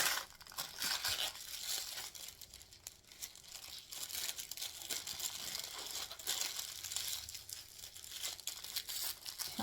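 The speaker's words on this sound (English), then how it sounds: "So here I tighten my piping bag." Soft crinkling and rustling of a piping bag being twisted and tightened by hand, faint and close, continuous for several seconds without talk.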